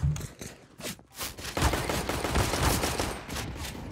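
Dense rapid gunfire from many weapons at once crackles through a multiplayer shooter match, a loud continuous barrage with brief gaps at the start before building into a sustained, overlapping volley.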